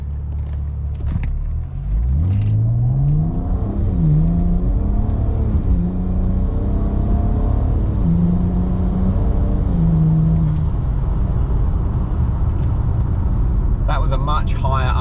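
A BMW N54 Alpina in sports mode accelerates hard through its gears, the engine rising in pitch several times with quick drops at each shift, loud and close from inside the cabin before settling into a steady drone.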